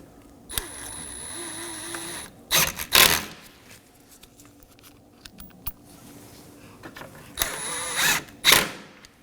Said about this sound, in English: Now for our 10mm bolts, just snug these down.